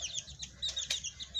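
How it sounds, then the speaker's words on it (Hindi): Chickens cluck softly in short, scattered bursts, with a few sharper high chirps close by. "चलो जी मुर्गी"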